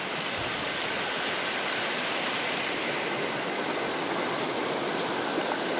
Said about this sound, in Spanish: Mirá, mirá ese río ahí.